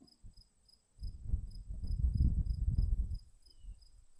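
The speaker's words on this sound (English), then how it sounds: "all I hear is the wind in the trees, a cricket, every once in a while a bird" A cricket chirps outdoors along a trail, a faint steady pulsing trill repeating throughout, while a soft rush of wind through trees swells in the middle and then fades.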